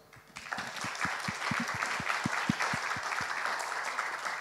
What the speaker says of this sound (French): Merci infiniment, on peut l'applaudir